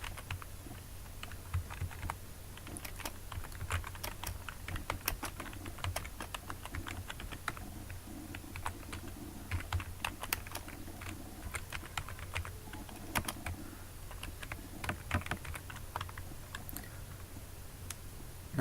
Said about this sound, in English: Now let's type some informative text.